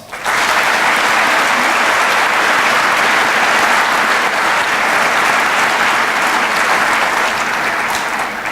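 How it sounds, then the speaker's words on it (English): At a veterans' salute event, a large audience gives a sustained round of applause, loud and even from start to finish with no pause. "Please join me in giving them a round of applause."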